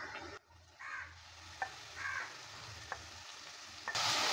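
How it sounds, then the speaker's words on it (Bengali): Bottle gourd peel stir-frying with onion and garlic in a pan, a soft sizzle broken by short scraping stirs and light utensil taps, ending in a louder burst of hissing. "লাউয়ের চোচাটা দেওয়ার পর ভালো করে নেড়ে চেড়ে নিচ্ছি।"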